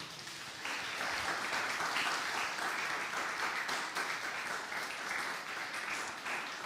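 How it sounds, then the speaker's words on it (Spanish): Audience applause for two presenters after a talk on designing and building with bamboo in Peru, a sustained even wash of clapping that starts abruptly and holds steady at moderate distance without voices. "un aplauso para ellos"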